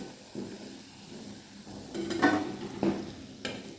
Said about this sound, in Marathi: सर्व भजी अशीच करून घ्यायचे तळून घ्यायची